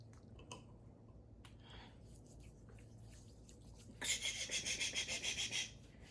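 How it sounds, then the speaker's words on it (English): Herbal neem flea remedy being rubbed by hand into a large dog's fur: quiet at first, then a close run of rhythmic, brushy rubbing strokes in the latter half. "And make sure you're getting it rubbed in there."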